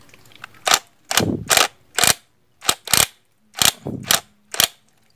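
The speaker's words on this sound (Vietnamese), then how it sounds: "mình có máy mình sẽ sử dụng máy mình bắn nha, cho nó chặt" A power impact wrench tightens a nut on a water pump motor in a series of short, loud rattling bursts, about eight sharp hammering blasts separated by brief pauses, close to the microphone.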